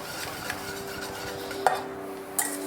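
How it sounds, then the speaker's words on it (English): Cream stirred in a pot while egg is added for pumpkin pie ice cream custard, a soft continuous scraping with a few light metallic taps, close and quiet. "sure that you're stirring the cream while you do it"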